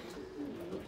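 A pigeon gives one soft, low coo inside a breeding loft, faint and brief against the room's background hum.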